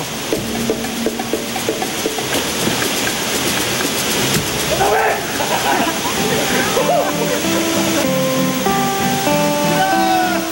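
Kawasan Falls in Cebu, Philippines, a steady broad roar of falling water with splashing, with music and a voice over it.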